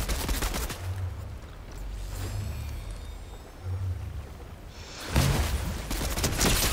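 Bursts of video-game gunfire in Fortnite, sputtering shots at the start and a louder closer volley near the end, with a quieter rumbling stretch between.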